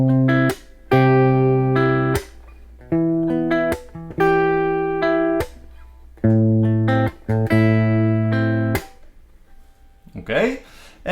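A guitar plays the first three measures of a song, with sustained chords and bass notes separated by brief gaps, ending in a short breathy noise.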